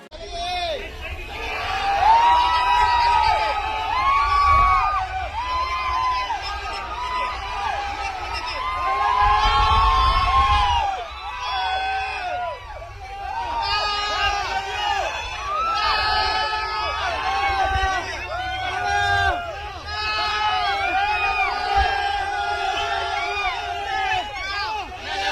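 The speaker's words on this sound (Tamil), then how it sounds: "காரில் அவர் உட்காந்துருக்கிறத பார்க்கறதுக்காக அவ்வளோ கூட்டம்" A dense crowd in Malaysia screams and cheers as actor Vijay gets into a car, a loud, continuous roar of shouting voices rising and falling in waves.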